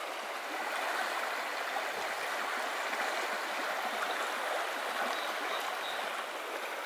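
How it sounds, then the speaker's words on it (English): The Fremont River flows steadily in Capitol Reef National Park, giving a continuous, soft broadband rush of moving water with no voices over it. "The Fremont River, I've been following it for several miles now."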